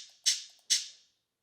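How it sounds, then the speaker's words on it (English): Shaker sample from a hip-hop beat, played alone as two crisp, bright hits about half a second apart, each with a short airy decay. "And we got shaker."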